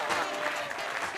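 A live comedy-club audience claps and cheers in a dense, steady burst as a performer is introduced on stage.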